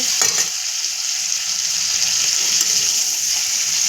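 Chicken pieces with a green chili fry in a pan for a Bengali chicken fry, giving off a steady, loud, close hiss of sizzling oil with occasional stirring and no speech.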